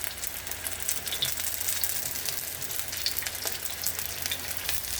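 Chicken pieces fry in a shallow layer of cooking oil, giving a steady dense crackling sizzle with scattered sharper pops, close and continuous throughout, with no talking.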